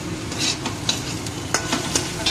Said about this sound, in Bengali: আর এদিকে চলছে বাবার আলু আর ক্যাপসিকাম ভাজা